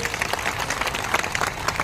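Children in a school group applaud together after a staged performance of the Bardoli farmers' movement in Fatehpur, a steady dense clapping that holds evenly throughout with no break.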